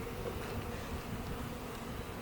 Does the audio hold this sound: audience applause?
no